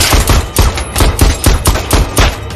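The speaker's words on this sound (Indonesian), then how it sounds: "Madeline yang saat itu bersembunyi di balik tempat tidurnya muncul dan langsung menembak Safin beberapa kali." Rapid gunfire from the 2021 James Bond film No Time To Die, a string of about a dozen loud, sharp shots in quick uneven bursts, each with a heavy low thump, filling the clip with no talking.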